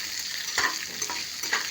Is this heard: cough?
no